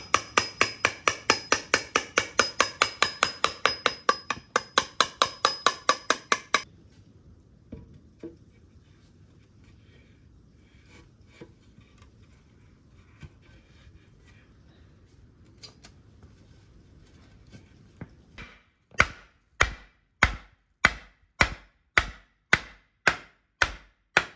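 Rapid metallic hammer strikes on a metal chisel knocking small chunks off a wooden post ring out in a steady burst, then quiet shuffling, then another run of sharp, evenly spaced blows.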